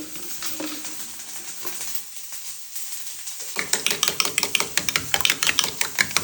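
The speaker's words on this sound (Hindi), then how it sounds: "तो सबसे पहले तेल ले लिया मैंने तवे में, और उसके बाद डालते हैं अब प्याज।" Sliced onion hitting hot oil on a griddle (tawa) for an egg sandwich, a quieter stretch then a loud burst of crackling sizzle with sharp rapid pops and spits continuing steadily, close up with no voices.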